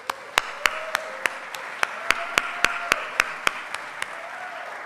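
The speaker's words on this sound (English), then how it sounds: "So let's give them a round of applause for being here." Audience applause at a technology awards event, a moderate wash of clapping from a crowd with regular louder single claps cutting through close by.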